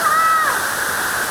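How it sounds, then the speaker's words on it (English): A waterfall in Bohol roaring steadily as a constant wash of falling water, with a brief high whistle-like tone near the start; no talk is heard. "in front of me right now is it's a waterfall."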